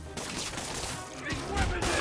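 Rapid gunfire in a Spider-Man video game during a fight with Shocker, a dense burst of overlapping shots with shouting voices mixed in.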